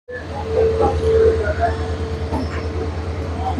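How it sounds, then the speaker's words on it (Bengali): A Howrah to Medinipur local passenger train rumbles along steadily with a low, continuous hum and rhythmic wheel noise, with faint background voices. "হাওড়া থেকে ছাড়লো হাওড়া মেদিনীপুর লোকাল"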